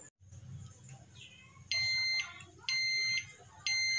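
An electric cooker signals that pulao is done with three loud, close, steady electronic beeps, each about half a second long and spaced roughly a second apart, over a faint background hum.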